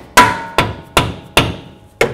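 Rubber hammer tapping a front control arm bushing into place on a 2007-16 GMC Acadia, five sharp evenly spaced knocks about a second apart, close and loud.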